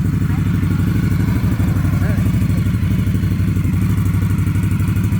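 Motorcycle engine idling and pulsing loudly at close range as the bike is loaded onto a trailer towed by a Ford Bronco, a steady throbbing rumble with occasional clanks and thumps.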